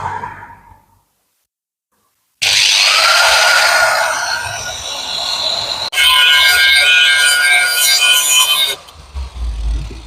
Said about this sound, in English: So Chris has very kindly borrowed me his wireless grinder